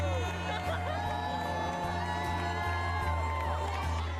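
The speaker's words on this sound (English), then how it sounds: "a huge crowd gathered to watch the 29th annual race" Large outdoor crowd at a 29th annual street race, a steady dense roar of cheering, whoops and shouts with children's voices, sustained and loud throughout over a low constant hum.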